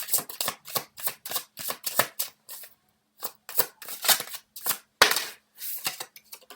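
Tarot cards are shuffled and handled in a quick run of close, crisp riffling bursts with short pauses between them.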